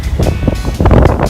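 Strong wind aboard a sailing boat underway buffets the microphone in loud, gusty rumbles, with rushing air and low thumps throughout.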